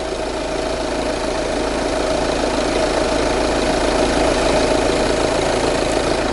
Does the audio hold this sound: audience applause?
no